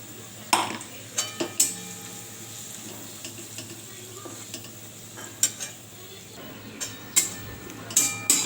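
Potato, green chili and crushed roasted peanuts being stirred and sautéed in oil in a pan for sabudana khichdi, with a soft steady sizzle under sharp intermittent scrapes and clinks of a spoon against the pan.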